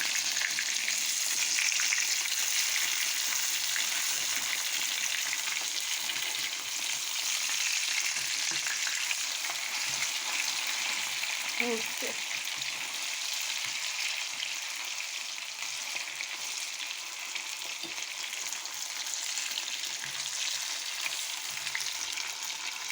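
Finely chopped chicken fillet fries in a pan with a steady, dense sizzle that runs throughout, staying close and even with no talking.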